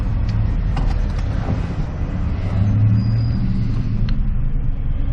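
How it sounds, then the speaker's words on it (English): A car at an auction, shifted into drive and given a little gas, its engine pulls with a steady low rumble that swells slightly, loud and close with no voices. "typically, I'll give it a little bit of gas, see if it pulls, which it totally is"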